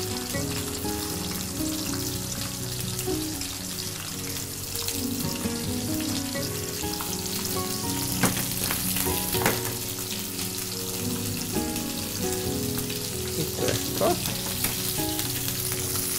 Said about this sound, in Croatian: Dodamo smrznute krumpiriće u vruće ulje.